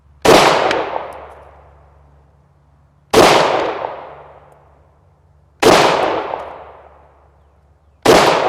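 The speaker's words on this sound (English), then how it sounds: "So I'll go ahead and take some shots and see if what I can get as far as accuracy out of it." Four loud, sharp gunshots from an Excel Arms 5.7 Accelerator pistol at a shooting range, spaced about two to three seconds apart, each with a long decaying echo and no talking.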